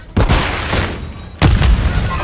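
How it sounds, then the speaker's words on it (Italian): Two heavy booming blasts from a flashbang grenade in Call of Duty MW3 multiplayer on the Favela map, each a sudden loud hit with a rumbling tail, the second following a little over a second after the first. "Tiro una flashbang."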